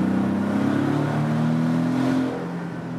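Porsche 718 Boxster with active exhaust, its engine revving loudly and steadily with a rising drone that eases off near the end, heard close with no talk.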